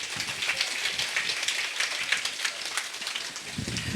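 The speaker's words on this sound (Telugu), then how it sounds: "ఒకసారి అనాయల్ అయ్య గారికి ఒకసారి గట్టిగా చప్పట్లు కొడదాం" An audience at a spiritual gathering at a meditation hall in Mandapeta claps together in a dense, steady wash of applause, moderately loud and unbroken, with no voices standing out.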